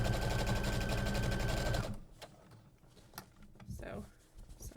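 A sewing machine stitching fabric runs with a rapid, steady mechanical rattle for about two seconds, then stops, leaving quiet handling noises and faint clicks.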